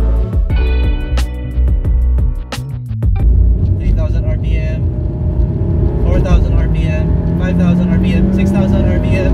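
A tuned Honda Jazz GK5 with an ECU tune revs hard toward 7,000 RPM, its engine note rising in a strong harmonic whine before dropping into a broad, steady roar of driving noise, loud and close throughout.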